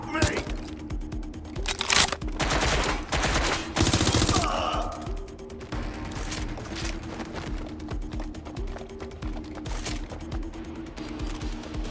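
Gunfire in the video game Watch Dogs: Legion: dense bursts of rapid automatic shots, loud and close for several seconds, then lighter shots continuing under a steady game score and occasional voices.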